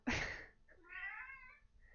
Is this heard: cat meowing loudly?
yes